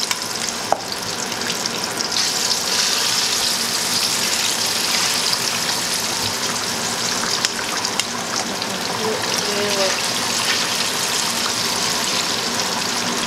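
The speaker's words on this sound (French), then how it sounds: "Je vais les mettre à frire dans l'huile. J'ai bien attendu que mon huile soit bien chaude." Food frying in well-heated oil in a home kitchen, a steady dense crackling sizzle that holds evenly throughout, close and fairly loud, with no voices.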